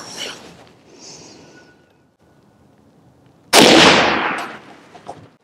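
A single loud rifle shot fired downrange at an orange sports drink bottle, a sharp blast at mid-clip with a long rolling outdoor echo after quieter handling noise.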